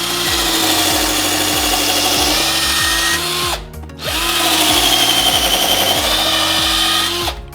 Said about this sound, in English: Let's see how well this drill can drill a 7x64 inch pilot hole.